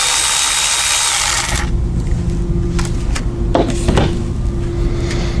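A power tool whirs in one loud burst while backing out the 8mm bolts holding the airbox top on a Hellcat during a cold air intake install, followed by a few light clinks and handling sounds.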